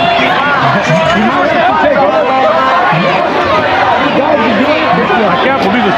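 A large, dense protest crowd mills outside the US consulate in Toronto at a pro-Reza Pahlavi rally, many voices overlapping in loud, constant babble close by.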